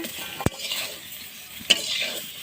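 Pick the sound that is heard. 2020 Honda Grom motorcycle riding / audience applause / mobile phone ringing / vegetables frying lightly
vegetables frying lightly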